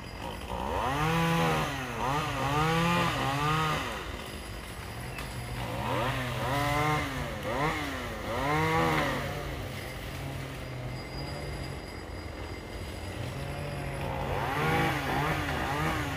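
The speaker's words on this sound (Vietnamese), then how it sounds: "Anh đang kéo cái máy cưa lên nha." A chainsaw cuts paperbark acacia trees outdoors, its engine revving up and down in repeated surges over a steady idle, loud and near, with no talking.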